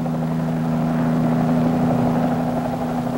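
A helicopter drones steadily over wild coastal country, a loud constant hum with a strong low tone and rotor throb, unbroken and without voices.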